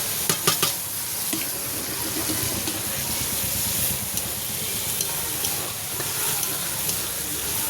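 Tomato and green chilli sizzle in plenty of oil for a chicken curry, giving a steady, moderate crackling hiss with a few sharp spits and soft stirring taps near the start.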